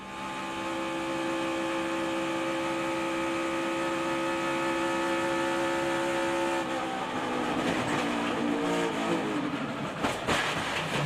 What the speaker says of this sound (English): Let's ride with the Toyota onboard camera and Bubba Wallace